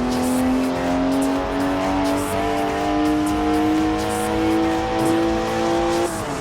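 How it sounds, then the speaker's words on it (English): Tires spin in a smoky burnout in Forza Horizon 4: a loud, sustained tonal squeal over steady engine drone, its pitch creeping slightly upward before cutting off abruptly near the end. "Look at the smoke! Please leave me some tread for the drive home, Stiggy."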